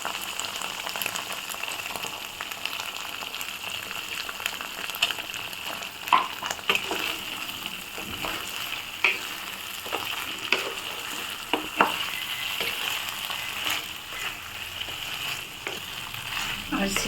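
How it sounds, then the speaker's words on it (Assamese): Oil fizzes steadily under frying korma masala for a white chicken korma, a close, even hiss dotted with small pops and crackles, with no one talking. "ইয়াত এনেধৰণে তেল ফুটি গৈছে"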